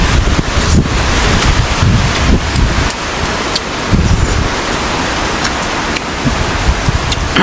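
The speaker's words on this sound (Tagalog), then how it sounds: "grabe hangin oh" Strong typhoon wind buffets the microphone in loud continuous roars, with rumbling surges that rise and fall throughout.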